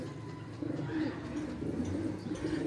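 Pigeons in a kabootar-bazi flock in Karachi, soft cooing and faint bird calls over a low outdoor rumble, close and fairly quiet.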